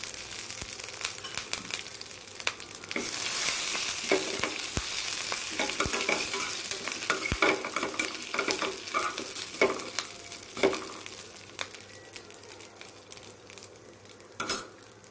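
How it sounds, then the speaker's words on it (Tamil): Dried chilies and curry leaves fry in hot oil with a continuous close sizzle, broken by spoon clicks and stirring scrapes against the pan, fading slightly toward the end. "காய்ந்த மிளகாய் சேர்த்து கருவேப்பிலை சிறிது சேர்த்து"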